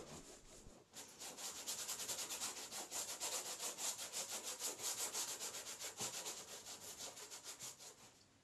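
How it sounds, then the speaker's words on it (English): Paint is rubbed briskly back and forth across a gessoed painting surface, making a close, steady scrubbing rhythm of rapid, even strokes that continues for several seconds. "I like rubbing the paint around to reveal the gesso marks and edges underneath."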